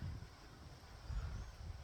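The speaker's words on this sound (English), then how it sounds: "sun is out and it is windy" Faint, low wind buffeting the microphone in a steady rumble with soft gusts, no voices.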